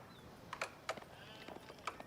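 Sheep bleat in a strategy video game, several short separate bleats over a soft game background, heard alone without talk.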